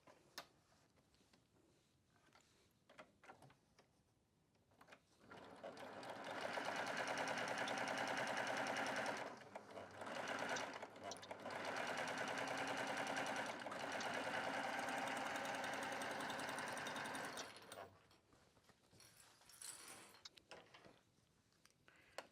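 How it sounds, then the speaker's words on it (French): A Baby Lock sewing machine stitches the side of a handbag in two steady bursts of rapid mechanical whirring and ticking. Quiet handling sounds come before, between and after the bursts. "Donc je vais coudre maintenant ce côté."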